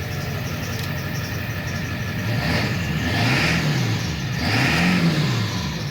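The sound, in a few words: Ford F-350 7.3 diesel engine revving after tuner install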